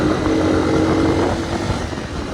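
Hartford VR motorcycle being ridden on a good road near Pokhara, its engine a steady close drone with wind rush throughout, no talking.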